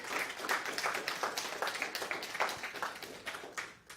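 An audience at a Sunday church service claps in a moderate round, with individual claps distinct, swelling briefly and then thinning toward the end.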